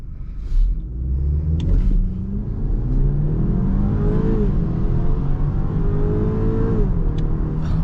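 A 2022 BMW X3 in sport mode accelerates hard from a standstill, its engine rumbling and rising in pitch through several steady climbs with brief dips at gear shifts, loud and close throughout with no talking.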